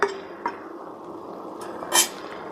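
A metal pot lid clinks and settles back onto a pot of boiling okra for a Bengali okra mash, giving three sharp, separate clanks over a faint simmering hiss.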